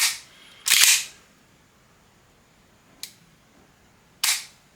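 A Hi-Capa airsoft pistol trigger mechanism clicks sharply, four crisp metallic snaps spaced unevenly, close and loud against near silence.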